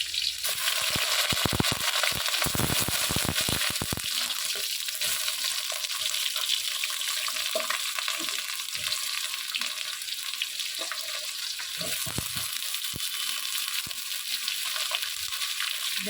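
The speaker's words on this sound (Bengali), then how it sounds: "পেঁপে আর বেগুনটা দিয়ে দেবো" Potato, papaya and eggplant fry with panch phoron in a wok, a steady loud sizzle throughout with clattering stirring strokes early on and occasional scrapes.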